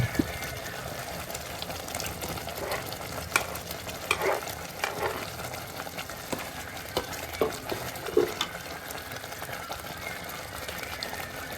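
Paneer gravy simmers in a pan, a faint, steady bubbling hiss with scattered soft pops and occasional light stirring knocks.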